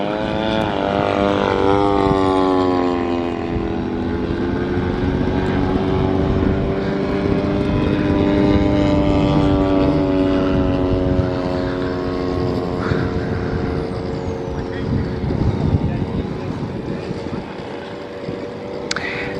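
RC Horten HO 229 flying wing model aircraft in flight at an RC air show, a loud continuous engine whine with the pitch sliding slowly downward as it passes, steady for the whole stretch.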